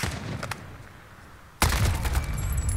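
Gunfire in the video game Warzone during a stadium 1v1 in Verdansk. After a quieter stretch, a loud, sudden burst of rapid shots breaks out midway and keeps rattling to the end.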